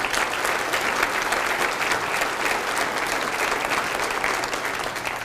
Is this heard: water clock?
no